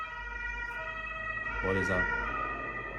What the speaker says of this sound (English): It's a song from ambulance.